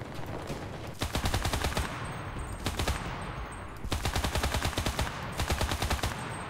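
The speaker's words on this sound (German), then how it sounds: "Mit dem Maschinengewehr" Machine-gun bursts in the WWII shooter Enlisted, set in Tunisia, hammer out in rapid rhythmic volleys, with several long bursts separated by short pauses, loud and close throughout.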